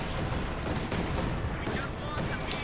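Tank cannon and gunfire in the World War II strategy game Company of Heroes 2, with US Shermans and tank destroyers in a heavy armor fight; dense, continuous battle noise of shots and rumble fills the whole stretch at moderate level.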